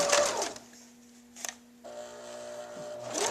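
A sewing machine set to 15 stitches per inch stitches along the edge of a skirt for an 18-inch doll, giving a fast whirring hum in short bursts with a pause in the middle.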